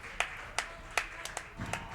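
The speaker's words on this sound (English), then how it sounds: "Claps around the stage." A few scattered hand claps ring out at a Guilty Gear Strive fighting game tournament after a match, sparse and irregular over a quiet hall hum rather than full applause.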